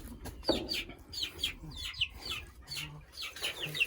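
Young chicks in a chick coop for grow-out birds give repeated high, downward-sliding peeps in quick, uneven runs, close and fairly clear, with soft background rustling.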